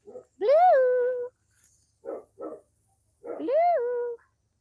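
A dog barks in two drawn-out, rising-and-falling yelping calls, close and fairly loud, separated by a couple of short huffing sounds.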